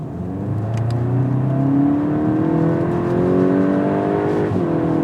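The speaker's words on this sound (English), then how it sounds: "there is still a lovely, lovely engine sound off it" A Volkswagen Golf GTI Clubsport engine revs and climbs through the gears, a smooth rising whine heard from inside the car, loud and steady with no talk.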